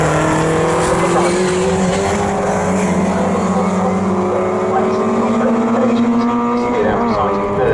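Mini race cars howl past at Snetterton circuit, several engines screaming together at high revs with shifting pitch as they charge toward a braking zone, loud and continuous, with a commentator talking over the racing.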